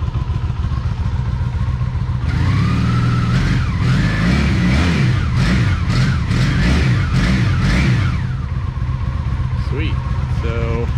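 A Honda Magna VF750 V4 motorcycle engine runs loud and close, idling with a steady throbbing rumble and a few quick revs rising and falling through the middle.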